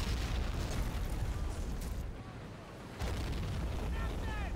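Mortar fire and exploding shells in a Pacific beach battle game, dense rumbling blasts and booms at moderate distance, dipping briefly before another burst of explosions.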